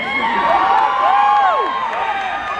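A rock and roll concert crowd cheers loudly, with sustained roaring and several rising and falling whoops and whistles all the way through.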